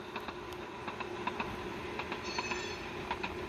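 Tsunami sound decoder in a model train boxcar or mechanical reefer gives off steady rail rumble with clicking wheel-on-joint ticks and a faint high squeal, close up, with a fan humming in the background.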